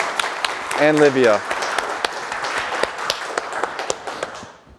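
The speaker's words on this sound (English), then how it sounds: "Round of applause for Joe." A tech summit audience gives scattered applause for the presenters, with distinct claps popping out near the stage under a brief spoken line early on, then thinning and fading at the end.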